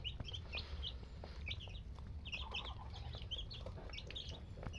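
Week-old Muscovy ducklings at early-morning feeding, with many high, repeated peeping calls overlapping in quick bursts over a low background rumble, moderately close and fairly quiet, no talking.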